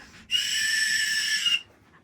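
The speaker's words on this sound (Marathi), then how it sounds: "शिट्टी आहे ना ती जॅक, ती रोज वाजत असते पाण्याची." A cruise ship whistle sounds one sustained, loud, steady blast of about a second and a quarter, then cuts off, leaving faint background.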